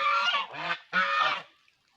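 Two loud, close honks from a domestic goose on a farm in quick succession, harsh and nasal, then silence.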